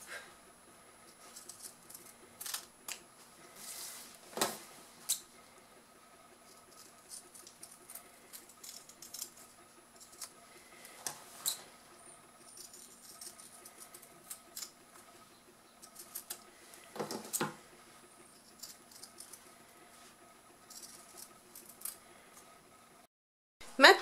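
Fabric corners of a sewn pouch being snipped with scissors, with soft close clicks and light snipping taps scattered over steady faint background hiss.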